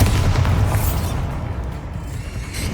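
Bombarda explosion spell in Hogwarts Legacy: a loud, low, rumbling boom that fades slowly over a few seconds, heavy and full without talking.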